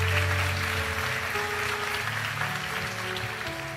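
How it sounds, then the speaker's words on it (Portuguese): Church congregation applauding strongly during a Sunday morning service, a dense, steady wash of clapping sustained throughout, with sustained musical tones underneath. "Dê um aplauso bem forte a Deus"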